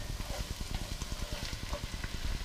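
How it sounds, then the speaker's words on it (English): Onions sauté in a pan over medium heat, giving a steady close sizzle and crackle with a busy, even texture throughout. "I've been sauteing the onions over medium heat for about 3, maybe 4 minutes"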